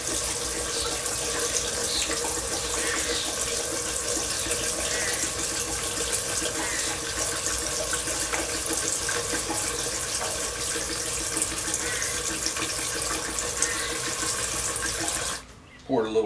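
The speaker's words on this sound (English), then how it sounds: "I like to put a little bit of fuel in here and mix it and then pour the fuel" RC engine fuel poured into and swirled in the fuel tank of a Taylor RC Supreme 71 engine on a Primal MT, a steady, continuous liquid trickle and splash that runs close up without a break, then stops abruptly near the end.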